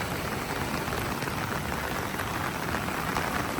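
Heavy rain pours steadily during a Konkan flood beside a raging river, a dense, even hiss that stays close and loud for the whole stretch with no voices.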